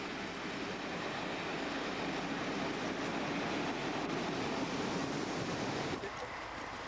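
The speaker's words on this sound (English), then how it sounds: "Back to Pitlochry now, to catch the train north to Blair Atholl." A train heading north from Pitlochry to Blair Atholl through the Scottish Central Highlands gives a steady, loud broadband rumble and rush that holds evenly throughout, with a brief dip near the end.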